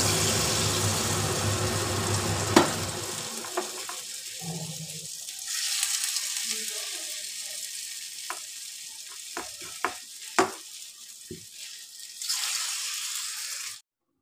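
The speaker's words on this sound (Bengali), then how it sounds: "এবার আমি ভেজে নেব, তেল দিয়ে দিয়েছি কড়াইতে, আর একটা একটা করে আমি ভেজে নেব" Carrot kofta pieces fry in oil in a wok, a loud dense sizzle at first that dies down into a quieter crackle dotted with sharp pops and clicks, then a brief hiss near the end.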